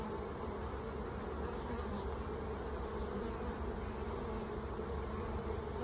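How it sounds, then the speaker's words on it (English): A dense, steady drone of many honey bees buzzing together inside a hive, continuous and close, with no voices. "There are a ton of bees in this hive."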